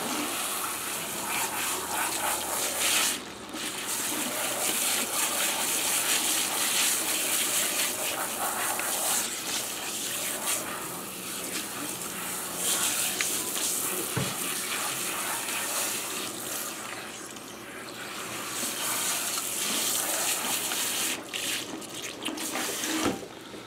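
Running water pours steadily over hair during a shampoo rinse at a salon basin, a continuous close, loud gushing stream with slight shifts as the flow is moved around.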